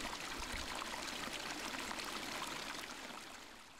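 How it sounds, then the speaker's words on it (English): Glacial meltwater stream cascading down Mount St. Helens, a steady broadband rush of flowing water, close and continuous, easing slightly toward the end with no voices. "Melting glacial ice joins these hidden fumaroles and ground vents beneath the dome, only to emerge as boiling streams that cascade down the mountain."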